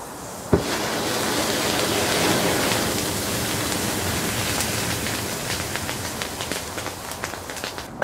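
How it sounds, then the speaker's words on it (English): A giant flame from brake fluid mixed with calcium hypochlorite pool chlorine roars as a steady, loud broadband rush. It opens with a sharp onset, then crackles with scattered pops, and no one talks. "Now for the last shot, I want to stand right next to the giant brake fluid flame"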